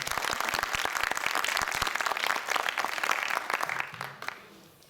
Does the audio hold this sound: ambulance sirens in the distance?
no